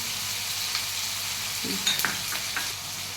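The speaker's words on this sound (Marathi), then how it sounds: "हे चांगलं परतून घ्यायचं घरचा मसाला टाकू मिसळ मसाला टाकू" Homemade misal masala being sautéed in a pan, giving a steady soft sizzle with a few brief stirring scrapes near the middle; close and fairly quiet, no talking.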